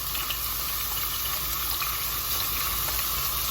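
Red onion sizzling in olive oil in a pan while a meat sauce is started, a steady, fairly loud frying hiss with faint crackles, no talk over it.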